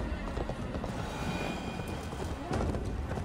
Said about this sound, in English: My horse out of stamina.